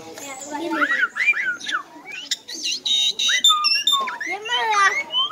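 Bright, warbling bird whistles rise and fall in quick varied phrases, close and clear, with chirps and trills overlapping.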